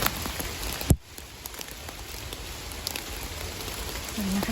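Rain falling steadily outdoors during mushroom foraging, a soft continuous patter with a sharp knock early on and faint scattered drips.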